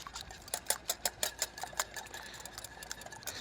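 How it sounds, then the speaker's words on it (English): Eggs whisked with heavy cream give a quick run of rhythmic clicking strokes against the bowl, close and fairly faint, slowing toward the end. "And then we'll get these nice and whisked up."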